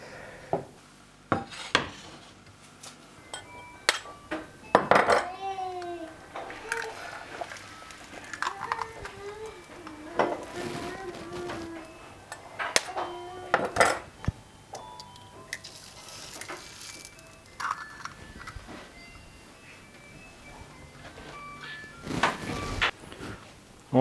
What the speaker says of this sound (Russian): Я сейчас их разобью в нагретой сковородке и пожарю яичницу на той и другой сковороде.